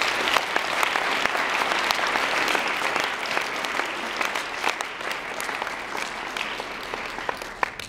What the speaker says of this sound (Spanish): Les pido un fuerte aplauso para todas estas personas que nos han apoyado durante el entrenamiento